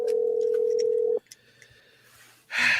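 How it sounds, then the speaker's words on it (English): An outgoing phone call: one long ring tone, then a short quiet gap with faint clicks, followed by a burst of noisy line sound as the call connects. "Come on, player. Answer the phone,"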